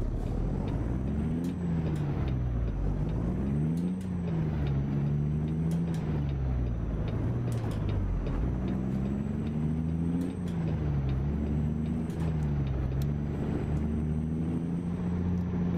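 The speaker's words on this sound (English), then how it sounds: "Truck sounds a lot nicer, I will say." A truck engine in American Truck Simulator rumbles continuously, its pitch rising and falling as it revs through gears, with occasional faint high clicks over the steady drone.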